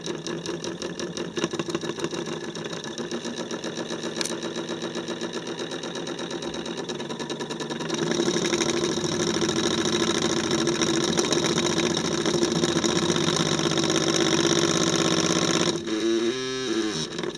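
A synchronous motor runs steadily at around 50 Hz, giving off a close, continuous mechanical hum with a rapid rattling whir; it grows louder partway through, and a brief clatter near the end suggests the shaft starting to jump or stall.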